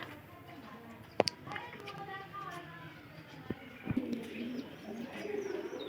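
Soft pigeon coos murmur in the background alongside a few sharp clicks and light bird chirps, with a person talking over them at moderate distance.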